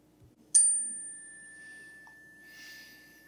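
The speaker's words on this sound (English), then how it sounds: "like listening to a chime" A single chime is struck once for a classroom listening exercise, a sharp clear ring that sustains and slowly fades, heard alone in a quiet room.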